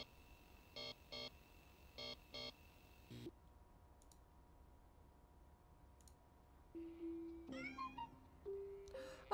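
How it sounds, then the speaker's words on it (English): A kitten in the Amanda the Adventurer video game gives a few short, high meows near the end, after a stretch of repeated electronic beeps and clicks and then quiet. "Oh, it's a kitten!"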